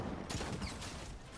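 A new weapon in the video game Fortnite fires a dense, continuous volley of rapid gunfire, loud and unbroken throughout.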